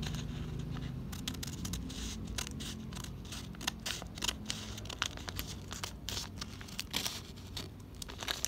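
Scissors snip and slice through a toy package with crinkling and tearing of plastic and cardboard, a steady run of close, sharp cuts and rustles with no talking.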